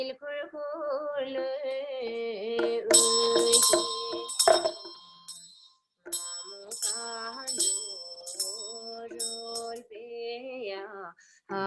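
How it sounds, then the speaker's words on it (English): Tibetan ritual practice with damaru drum and hand bell, bright ringing bell strikes and chimes layered over sustained tones, rising in clusters then pausing before resuming. "with the Dhammaru and bell"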